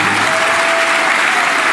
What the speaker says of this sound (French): Est-ce qu'on peut applaudir pour mon guitariste?